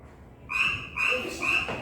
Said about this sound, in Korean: 정답 얘기해볼까요? 개구리.